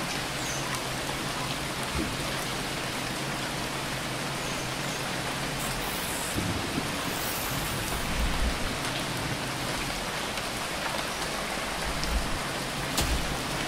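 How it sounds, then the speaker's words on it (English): Rain falls steadily in a video game, a dense, even hiss of downpour that holds at a constant loud level throughout with no voices. "The rain is coming from very small clouds, as if the planet is sucking the water out of them."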